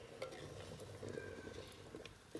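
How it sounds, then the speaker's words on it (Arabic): Quiet stirring of harira soup ingredients in a pot over a faint sizzle, with a few light scrapes and clinks of a utensil against the sides. "غادي نحرك هاد المكونات اللي زدت"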